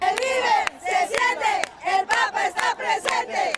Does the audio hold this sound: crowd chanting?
yes